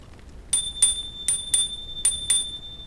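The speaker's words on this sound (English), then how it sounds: "I'm gonna use my bell to scare him away" Bicycle bell rung on a mountain road to scare off a possible black bear, sounding as three clear pairs of bright metallic rings at steady intervals over quiet outdoor background.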